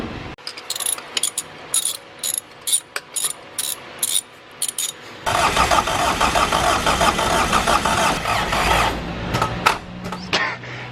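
Small engine with a cylinder head glued on using JB Weld instead of a gasket, with exhaust and intake removed: intermittent ratcheting cranking bursts, then it catches and runs loud and rattly for several seconds before cutting out.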